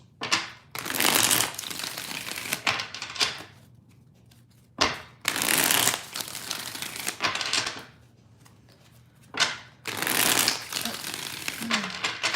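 Tarot cards are shuffled in several loud, crisp bursts of riffling and flicking, separated by short quiet pauses.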